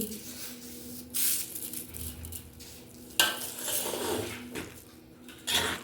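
Fried rice is stirred in a pan with ghee, cashews, raisins, capsicum, cloves, cardamom and chopped ginger, giving close, repeated bursts of scraping and clattering over a steady sizzle.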